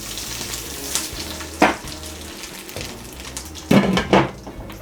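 Popcorn kernels in melted butter and salt sizzle in a stovetop pot, a low frying hiss punctuated by a few loud clanks and rattles as the pot is tossed and shaken, with no voices.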